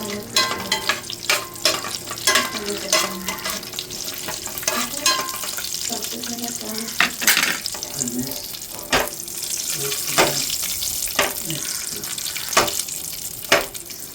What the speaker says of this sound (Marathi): मनुके त्यामध्ये फुगेल इथपर्यंत मी ड्रायफ्रूट असे छान परतून घेतले